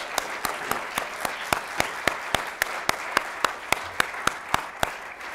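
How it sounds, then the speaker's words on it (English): A crowd gathered for the NASDAQ closing bell ceremony, with NetApp, Regis High School and St. Baldrick's, claps in a slow, even rhythm, each clap sharp and distinct over a low, steady background murmur. "How about a big round of applause"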